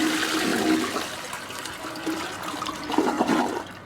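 Steady rushing and gurgling water, like a flush, runs for several seconds in Bendy and the Ink Machine, moderately loud and continuous with a few swells, and no voices.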